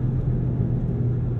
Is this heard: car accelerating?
yes